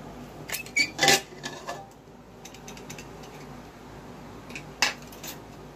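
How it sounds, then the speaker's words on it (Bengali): A pressure cooker is opened after cooking mutton: a few sharp metallic clanks and rattles of the lid and pot, clustered early and then one more near the end, against a quiet kitchen background with no talk. "মাটনটা হয়ে গেছে, খুলে আমি দেখাচ্ছি প্রেশার কুকারটা।"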